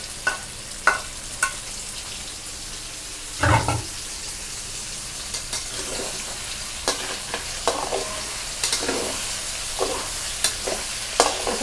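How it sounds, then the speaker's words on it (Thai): Red chilies stir-fried with long eggplant in a lightly oiled pan, a low sizzle punctuated by repeated sharp scraping and clattering stirs, one louder knock early on, and no speech. "พริก แดงจินดาเอาลงไปผัดด้วยเลยนะคะ"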